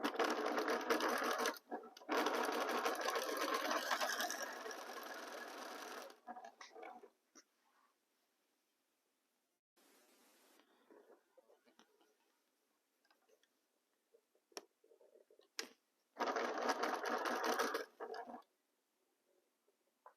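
A sewing machine runs loud and close in long bursts while stitching fabric diagonally, with pauses of near silence and faint handling clicks between the runs.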